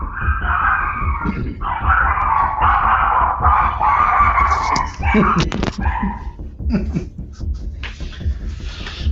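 A dog barks and yips loudly and close by, with whimpers and excited bursts running under the sound of people talking.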